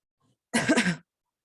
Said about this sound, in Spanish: disculpen que estoy con este tema de la tos